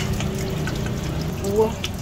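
Baby shrimps (alamang) are washed in water, with a steady close sloshing and running-water wash and a few faint clinks.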